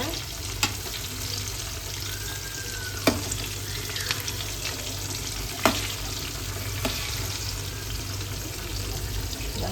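Bitter gourd stuffed and tied with thread fries in a pan of hot oil, giving a steady close sizzle throughout with a few sharp pops and spatters breaking through at intervals; no one speaks.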